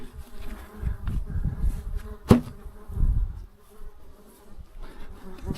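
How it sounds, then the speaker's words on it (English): Houseflies buzz steadily through a video game scene, a low droning hum that rises and falls, with one sharp louder burst partway through. "Might be a little annoying with the buzzing"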